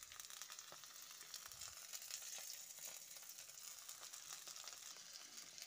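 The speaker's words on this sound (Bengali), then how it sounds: "এমনি করে সব ঢেঁড়সগুলো আমি ভেজে নেব।" Okra frying in a little oil in a pan gives a faint, continuous crackling sizzle with scattered small pops and no voices.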